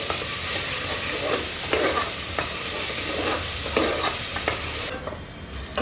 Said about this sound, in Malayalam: 1 ടേബിൾ സ്പൂൺ ഇഞ്ചി വെളുത്തുള്ളി പേസ്റ്റ് വേണം. അതും കൂടെ ഒന്ന് വഴറ്റാം.